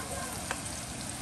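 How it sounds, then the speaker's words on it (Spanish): Chopped onion and jalapeño sautéing in a pan for tamales, a steady close sizzle and crackle of frying with a brief stir or tap partway through. "yo estoy sofriendo aquí"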